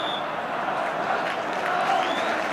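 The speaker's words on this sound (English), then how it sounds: "And the applause still ringing round the ground for West Ham's last attack." A football stadium crowd at a West Ham v Arsenal match applauds continuously, a faint, even wash of clapping and crowd noise.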